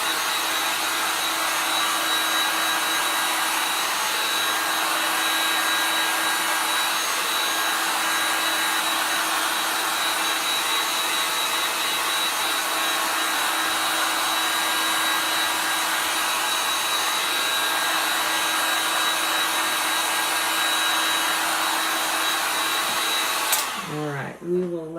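A hair dryer blows steadily and loudly on a chalk-painted henna pumpkin craft, a constant whooshing roar that runs unbroken for most of the stretch before cutting off abruptly near the end.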